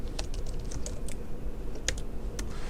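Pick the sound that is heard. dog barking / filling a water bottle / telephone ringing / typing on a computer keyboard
typing on a computer keyboard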